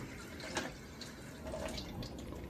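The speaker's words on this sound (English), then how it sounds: "run some cold water over it" Cold tap water runs in a soft, steady trickle over raw mahi mahi fillet in a sink, quiet and close with light splashing and faint drips.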